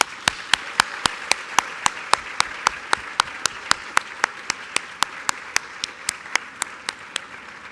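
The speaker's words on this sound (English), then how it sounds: "please join me in giving yourselves a round of applause" Clapping at a university welcome event comes as sharp, evenly spaced claps in a steady rhythm of about three per second, close and clear, with no other voices or noise.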